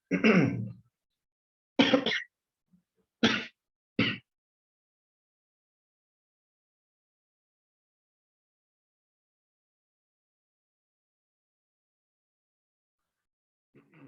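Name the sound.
coughing fit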